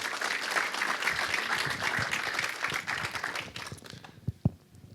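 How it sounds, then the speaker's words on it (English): Audience applause at a film festival press conference for competition filmmakers, full clapping that thins out toward the end, leaving a few scattered claps and knocks. "Ladies and gentlemen, we can please give a round of applause to Vincent Boykars and Leila de Munt"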